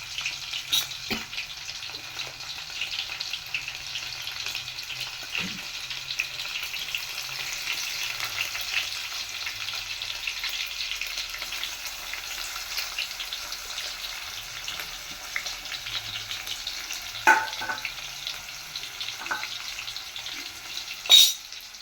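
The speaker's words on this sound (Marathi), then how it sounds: "या तेलामध्ये आपण लसूण कांदा आणि तो तेजपत्ता टाकला" Garlic, onion and bay leaf fry in hot oil with a steady, broad sizzle lasting throughout, punctuated by a few brief clinks and stirring knocks near the end; no voices.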